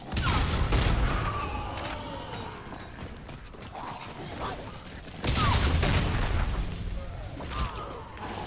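A grenade detonates in Call of Duty: Infinite Warfare Zombies, a sharp burst standing out over busy game noise, followed later by another loud blast amid the clatter.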